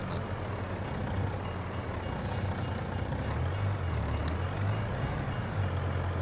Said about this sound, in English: there's the train going across, look